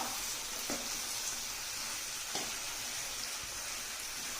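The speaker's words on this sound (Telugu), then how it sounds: "ఇప్పుడు వంకాయ ముక్కలు వేసిన తర్వాత ఈ విధంగా అంతా కలిసే విధంగా కలుపుకుందాం" Brinjal pieces sizzle in a pan for a brinjal tomato curry, a soft, even frying hiss like light rain, with faint stirring taps now and then.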